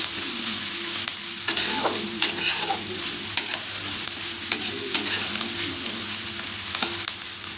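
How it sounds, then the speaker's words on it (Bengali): Onions frying in a pan for a coriander chicken curry, with a steady crackling sizzle and repeated scraping strokes of a spatula as they are stirred, close and fairly loud. "তো চলুন পেঁয়াজটা একটু ভেজে নিই।"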